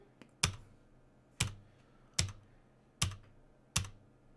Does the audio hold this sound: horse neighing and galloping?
no